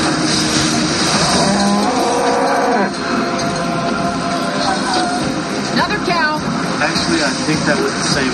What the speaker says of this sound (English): Another cow. We got cows.